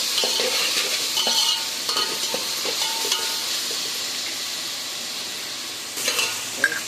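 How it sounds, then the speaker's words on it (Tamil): Green chillies and Kashmiri chilli powder sizzle and are stirred in hot oil in a pan, with a steady frying hiss and occasional scrapes of a spoon against the metal. "நல்லா வதங்கணும்."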